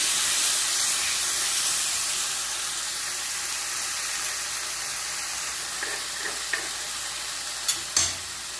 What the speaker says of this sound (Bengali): দিয়ে দিচ্ছি টমেটো বাটা তেলের সঙ্গে